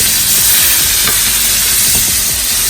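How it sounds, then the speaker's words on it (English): A burger frying in brown butter and oil in a pan, with a loud, continuous close sizzle and a few soft stirring and basting scrapes. "we're getting a little bit of a brown butter action going on in there"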